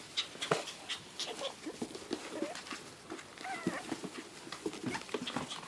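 Schipperke puppies pant and whimper up close, with soft high whines, small yips and scuffling over a busy, uneven background.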